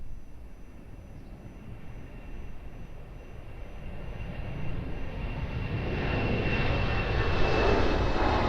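An airliner takes off from runway 02 at Lisbon Airport, its jet engine roar building from a distant rumble into a loud, broad rushing sound over several seconds.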